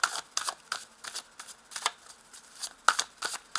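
Tarot cards shuffled and laid out in a near, quiet room, a run of about a dozen crisp papery riffles and slaps in an uneven rhythm with short pauses between them, no voice present.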